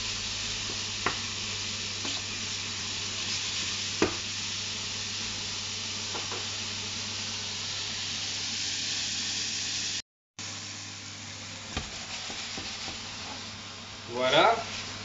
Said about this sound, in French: On a légèrement saisi nos viandes